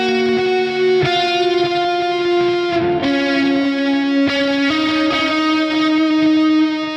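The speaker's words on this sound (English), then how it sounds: "Some spacey worship leads, neck pickup on the lead channel with a bunch of delay and reverb" Sustained notes from an ESP LTD EC-401VF electric guitar, neck pickup on the lead channel, ring out with heavy delay and reverb, tones smearing into a continuous, spacious wash that shifts pitch a few times.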